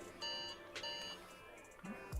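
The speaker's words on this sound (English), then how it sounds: "Hello, alarm. Shut the fuck up." An alarm clock in the Zenless Zone Zero video game gives off a soft, sustained electronic tone with brief beeping accents, quiet and steady under faint background game sound.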